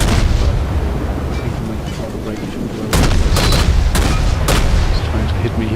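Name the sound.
naval guns firing in World of Warships video game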